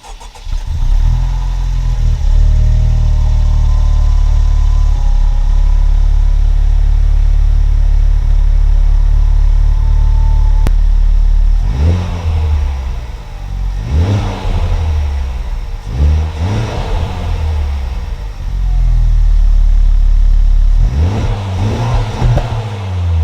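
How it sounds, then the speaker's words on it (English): A Honda Civic Type R engine with stock exhaust cranks and fires on a cold start, then settles into a loud, steady rumble with several sharp revs later on, close by. "we're gonna go ahead and do a cold start so that you guys can hear the stock exhaust"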